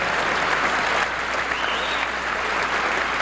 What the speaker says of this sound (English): how about a nice round of applause for the Tuscarora Philharmonic?